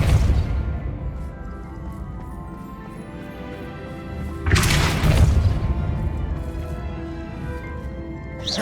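Casting the Depulso spell in Hogwarts Legacy on PS5 releases a sudden forceful blast with a crashing boom about halfway through, loud and close over a rumbling game soundscape, fading into lingering debris noise.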